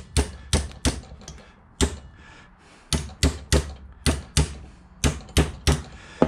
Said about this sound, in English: Take my brass hammer.